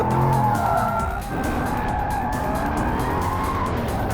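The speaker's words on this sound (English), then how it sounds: "it makes the right soundtrack with a proper V8 up front" Jaguar F-Type P450 R-Dynamic with its front-mounted V8, a loud continuous engine roar on the road or track, steady and close throughout with no talk.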